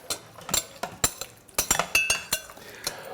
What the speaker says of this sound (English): I'm gonna stir all the ingredients in here.